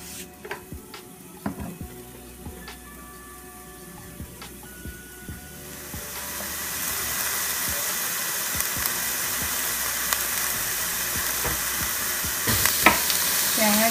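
Onions sweating with a little salt in a pan for shepherd's pie, a soft sizzle that swells to a steady louder fry midway, with scraping stirs and utensil clicks throughout and no talk.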